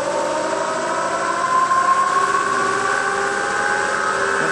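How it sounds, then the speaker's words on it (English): A wood lathe runs at high speed, around 1,000 RPM, spinning a small natural edge bowl blank for rough turning, giving a steady whirring hum with a tonal whine, constant and fairly loud. "I'll set the lathe fairly high speed to start with"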